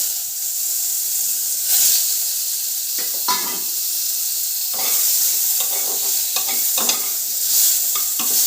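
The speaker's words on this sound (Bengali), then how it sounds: "এবারে ভেজে নেব মূলোগুলো" Radish pieces coated in salt and turmeric fry in hot oil, giving a steady bright sizzle with repeated scraping stir strokes scattered throughout, close and fairly loud, with no voices.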